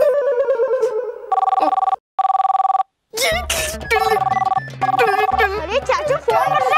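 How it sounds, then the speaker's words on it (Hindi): A telephone rings in loud repeated electronic bursts with short gaps between them, while voices chatter over and around the ringing. "अरे चाचू फोन बज रहा है।"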